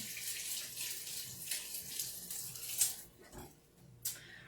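Hands washed under a running kitchen tap, a broad steady water hiss with brief splashy bursts, fairly close and fading toward the end, no talk over it.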